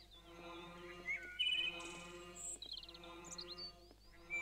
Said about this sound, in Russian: Слышу птичек,